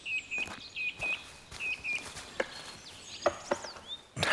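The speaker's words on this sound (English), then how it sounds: "Tapping sounds make me aware of a great spotted woodpecker." A great spotted woodpecker taps sharply and irregularly at close range in a forest, with high bird chirps and whistles scattered between the knocks in a quiet outdoor setting.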